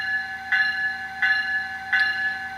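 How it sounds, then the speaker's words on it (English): Electronic bell from an SD40 locomotive sound file, ringing in three evenly spaced, bright metallic strikes over a steady background hum, loud and close with no voices. "So let's hear that e-bell."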